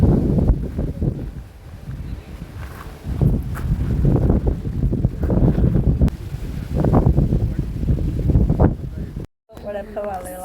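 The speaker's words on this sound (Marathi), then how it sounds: "एवढा जोरात वारा सुटला आहे, मला वाटतं माझा आवाज पण नाही येणार" Strong wind buffets the microphone in heavy, rumbling gusts for several seconds, rising and falling, with a voice talking underneath before a brief cutoff.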